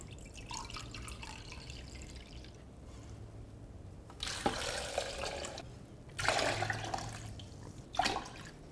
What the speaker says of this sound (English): 3 cups of filtered water